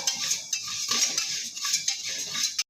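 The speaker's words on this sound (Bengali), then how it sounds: "একভাবে নেড়ে যাব আমি কিন্তু নাড়া বন্ধ করছি না" Rice being stirred continuously while heating in a pressure cooker, a close rapid scraping and rattling of a spoon against the metal pot with rhythmic clinks, no talk.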